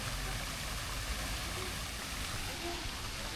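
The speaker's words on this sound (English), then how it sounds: "This is a nice waterfall." Steady rushing waterfall in a park in Marbella's town centre, a constant broadband wash of falling water filling the whole clip at an even, moderately loud level with no pauses.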